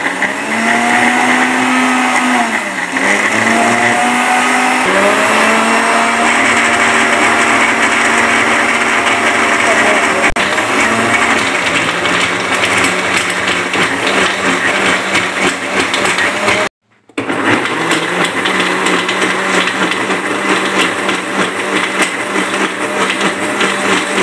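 A mixer grinder whirs loudly and steadily for a long stretch blending green chutney with water, briefly stopping then starting again, with its motor pitch wavering as it blends.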